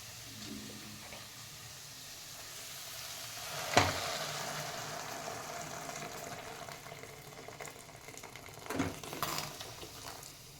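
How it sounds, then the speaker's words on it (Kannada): Hot water poured into a sizzling onion upma tempering with coriander leaves in a pan, giving a steady hiss and bubbling fry with a sharp burst when the water hits and another flare-up near the end. "ನೀರು ಹಾಕ್ಕೊಳ್ತೀನಿ."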